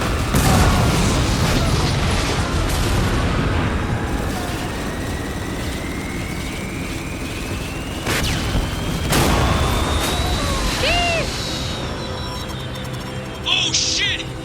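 Missile explosions in the Spec Ops: The Line video game: deep booming blasts over a constant heavy rumble and aircraft hum, with a rising whine and a sharper burst near the end, loud and close.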